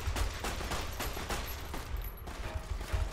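Rapid gunfire in a video game, a dense, continuous run of shots and mechanical clatter at moderate volume, with no talk heard.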